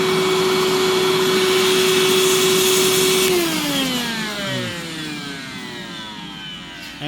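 A Proteam Tailvac DT 100 vacuum runs with a loud, steady whine and rushing exhaust air, then its pitch sweeps downward as the motor winds down, leaving a softer airy hiss.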